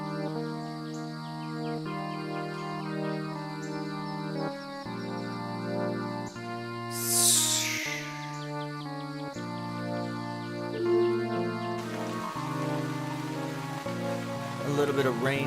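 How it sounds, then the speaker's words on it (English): Soft rainfall and scattered bird chirps, added as nature sound effects, sit quietly under a song with steady music that dominates throughout. "I just added some nature sound effects underneath."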